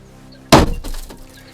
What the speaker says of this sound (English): aiming the pointed steel tip of the hammer at the glass, strike the window in the middle